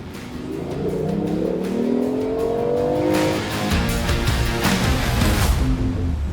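A BMW i8 Roadster revs hard with traction control switched off, its engine note climbing in rising steps before settling into a loud, continuous roar, close and with no talk over it.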